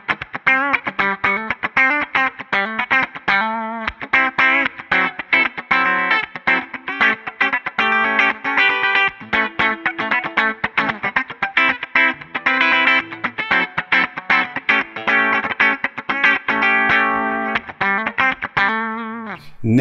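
Electric guitar through a Line 6 Helix with a compressor squashing the signal, a continuous run of rapidly picked notes and chords at an evenly flattened, loud level throughout.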